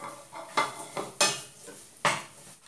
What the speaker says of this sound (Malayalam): ഈ നെയ്യിലിട്ടൊന്ന് വറുത്തെടുക്കാം